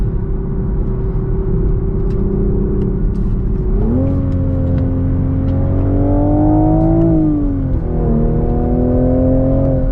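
A Toyota GR Supra 3.0 with a six-speed manual pulls hard on a racetrack, its engine note climbing steadily, dipping sharply at a gear change, then rising again in a loud, close, continuous drone.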